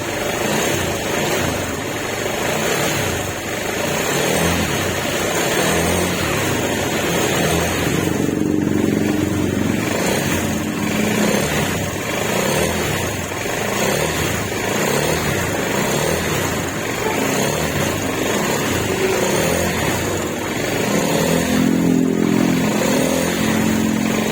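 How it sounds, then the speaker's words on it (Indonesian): A Honda motorcycle engine held under load and revved during an ECU remap, a continuous loud buzzing drone with rising and falling surges, no talking. "Biar seolah-olah motor lagi mau narik gas, ada beban."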